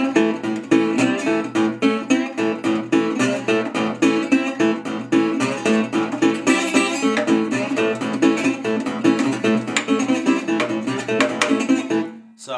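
Delta blues riff on acoustic guitar, played briskly and repeatedly with dense plucked notes and percussive string attacks. Close and loud, with no voices, ending abruptly.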